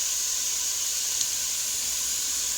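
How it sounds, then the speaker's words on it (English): Garlic added to hot pans gives a steady, even sizzle and hiss that holds at the same level throughout, with no voices. "Now we're going to add our garlic to the pans."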